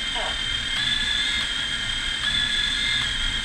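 A quadcopter's motors spin steadily after arming with idle up, giving a continuous high, even whine that holds at a constant pitch throughout.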